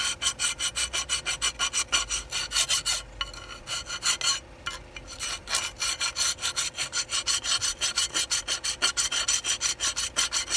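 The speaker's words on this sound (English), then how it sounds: "Go over it with a file, go over it with the brush as well." A file and then a wire brush scrub rust off a Nissan Micra K11 front brake caliper bracket in fast, rhythmic back-and-forth rasping strokes, close and loud, with a short pause midway.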